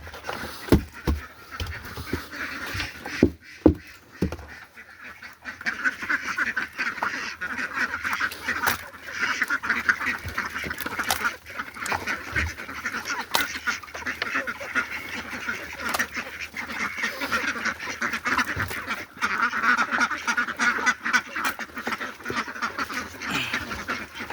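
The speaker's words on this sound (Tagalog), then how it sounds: "sarap na sarap yung mga itik na ah, sarap tingnan" Ducks quacking while eating feed, a busy overlapping chorus of quacks from a group close by, continuing throughout with a few sharp knocks near the start and no talk.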